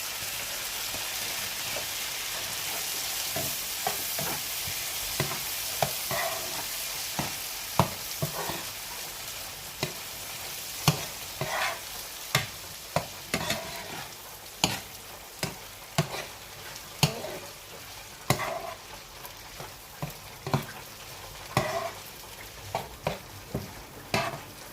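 Mixed vegetables frying for fried rice, a steady crackling sizzle with frequent sharp spatters and stirring clicks, close and fairly loud, without any talk.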